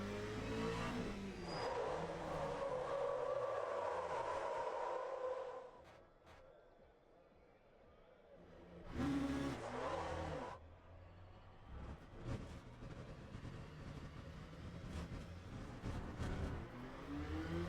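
An LMP2 prototype race car in the Le Mans Ultimate VR sim racing game revs and accelerates, drops away briefly, then surges back with shifting engine tones through the rest of the lap.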